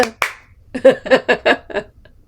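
A short burst of hand claps marks a student's correct answer in a beginner English dictation lesson: two sharp claps, then five even claps in a quick rhythm, close and clear with no talk.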